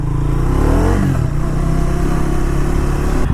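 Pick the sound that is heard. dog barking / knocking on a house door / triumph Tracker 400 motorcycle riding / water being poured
triumph Tracker 400 motorcycle riding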